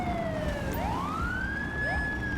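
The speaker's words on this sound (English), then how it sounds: "I just wish that he didn't have his siren on" A police motorcycle siren in the GTA V LSPDFR game wails steadily, its pitch sweeping down and then rising again, loud and continuous with no talking.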